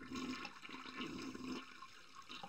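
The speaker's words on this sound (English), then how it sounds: "At least the flush still works." Toilet flush in the Harvester video game bathroom: a steady rushing gush of water for about a second and a half, then tapering into a quieter trickle and refill wash, moderately loud with no talk.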